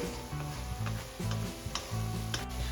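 Crushed green chillies sauté in a hot pan for pav bhaji, a continuous sizzle broken by repeated scraping strokes of a spatula against the pan in a steady rhythm, close and fairly loud.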